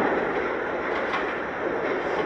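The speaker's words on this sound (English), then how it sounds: "Look at that train leave." A New York City subway R142 train on the 6 line pulls out of the station with a steady, loud rush of wheels and rail noise. The roar is broadband and continuous, and no voices can be heard.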